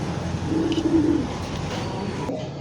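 Black Lahori pigeons at a market give a soft, low cooing call near the start, close by, over steady background noise.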